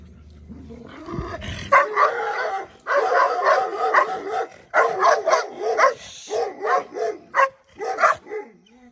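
A dog barks repeatedly up close in rapid bursts, mixing yips and whimpers, the barking choppy and excited for several seconds.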